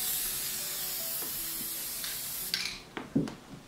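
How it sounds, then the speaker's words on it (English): Aerosol basting adhesive sprayed onto quilt fabric during quilt basting, heard as a steady close hiss that ends in a few short sharp bursts near the end. "So I just spray this."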